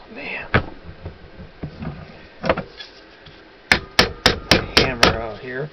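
A hammer strikes a seized brake wheel cylinder from an MGB, with a few scattered knocks and then a rapid run of six sharp, loud metallic blows close up, with voices nearby.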